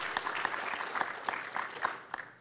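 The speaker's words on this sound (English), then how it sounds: "Give the man a round of applause while he gets his mouse pad and" A small audience at a tech trivia event claps in a faint, distant, even patter that thins out toward the end, with no talking over it.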